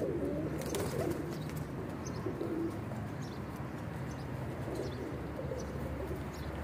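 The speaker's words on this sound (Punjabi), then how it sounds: "ਇਹ ਵੇਖੋ ਮਾਸ਼ਾਅੱਲਾ ਕਬੂਤਰ।" Pigeons coo softly in repeated low, throaty phrases, fairly faint amid a steady background hum, with a few light chirps and no talk.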